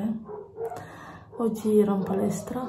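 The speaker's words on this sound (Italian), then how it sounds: "Scusate i cani che abbaiano, ma non ci posso fare niente." Dogs bark in short bursts somewhere in the background while someone talks over them in a close, clear voice.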